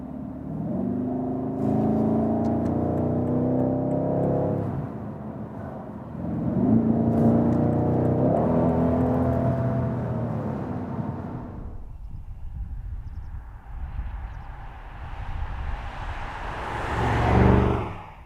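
A 2019 BMW M550i sedan accelerates hard, its engine rising in pitch through two long pulls with a gear change between them, then easing off before a louder surging rush near the end.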